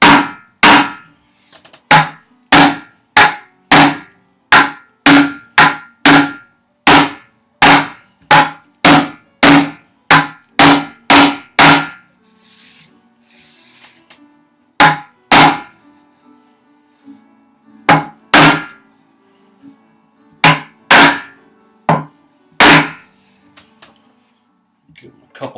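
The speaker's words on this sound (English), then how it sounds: "The hammer actually seems to be sinking them down pretty good." Loud, sharp hammer blows striking cut nails in a steady rapid series, then a pause and a few more spaced strikes, close by.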